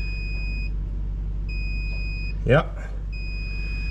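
A scissor lift with a weak battery at an auction sounds a steady electronic beeping tone in long on-off stretches, close and fairly loud, broken by a short spoken word and a brief rustle.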